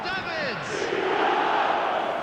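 In eFootball 2026, the stadium crowd gives a steady, rising roar of chanting and cheering, while a commentator talks over it.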